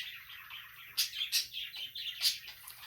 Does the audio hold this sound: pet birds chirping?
yes